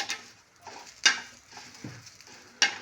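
Garlic and green chillies roast in a pan for a village-style chilli thecha, giving a soft sizzle broken by a few sharp clinks and scrapes of a spatula against the pan, close and quiet with no talk.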